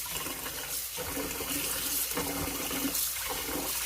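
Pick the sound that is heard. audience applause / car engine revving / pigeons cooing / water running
water running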